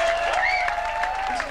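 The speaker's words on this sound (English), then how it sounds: "So a round of applause for everyone who contributed." Concert audience at a benefit show applauds contributors, a steady, dense wash of clapping with some crowd noise and a sustained musical tone running underneath, no clear voices.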